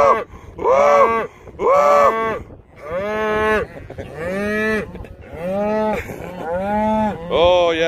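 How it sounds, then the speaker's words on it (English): A cow on a farm moos repeatedly, with about six or seven loud, close, drawn-out calls separated by short pauses and no talk over them. "Moo cow."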